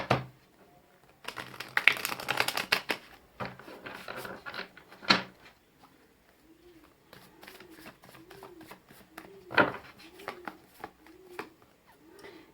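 Oracle cards are shuffled and drawn, giving a close, crisp burst of riffling and flicking followed by sharp isolated snaps and taps, with a soft voice-like tone later.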